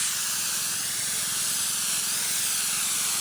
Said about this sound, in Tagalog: Nag-i-spray ho, nagpapatubig mga idol.